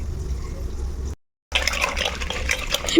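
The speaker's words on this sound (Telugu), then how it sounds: "పిండి తీసిన తర్వాత మిక్సీ గిన్నెని వాటర్లో కొన్ని వాటర్ వేసి ఇలా కడిగేస్తున్నాను" Water poured into a mixer jar to rinse out leftover batter in a home kitchen, a steady splashing fill that cuts off briefly, then resumes louder and more turbulent.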